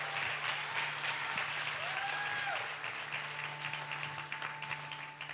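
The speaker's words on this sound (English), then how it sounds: "We can clap for that." Church congregation applauding after a closing prayer, steady moderate clapping from a gathered crowd with a faint sustained tone and a brief gliding sound in the middle, fairly quiet and even throughout.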